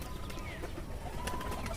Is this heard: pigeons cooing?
yes